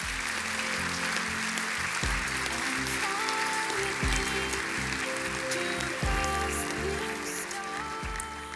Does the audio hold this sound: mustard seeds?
no